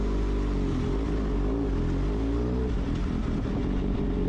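Motorcycle engine in the XRacing video game revving hard and steadily, a loud continuous drone with shifting pitch throughout, no one speaking over it.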